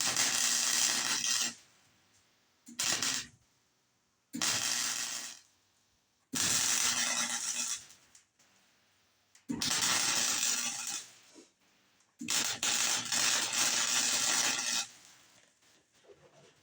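A welder lays bursts on a metal patch panel on an old Hudson, partly blowing through the original metal. Six loud, crackling buzzes of one to three seconds each are separated by short silences, with no talk.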